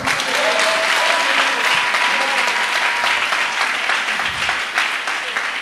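A church congregation claps loudly and continuously, with dense applause filling the room and a faint murmur of voices underneath.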